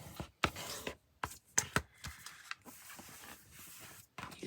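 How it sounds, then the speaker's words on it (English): A paper cutter slices through printed pages in a few sharp, quiet swipes and clicks, separated by short pauses, with light paper handling between the cuts. "used my paper cutter."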